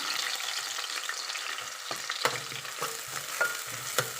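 Onions and green chillies frying in oil in a pan for a fenugreek-leaf chicken curry, a soft steady sizzle with intermittent spatula scrapes and taps, close up.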